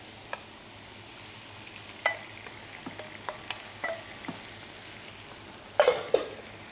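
Tomatoes and peppers fry for ratatouille in a steady low sizzle, with scattered utensil taps and a few sharper clatters near the end.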